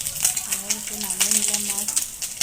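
Korti fish frying in hot oil, a steady broadband sizzle with crackling bursts, close and moderately loud, while a voice hums or speaks faintly underneath.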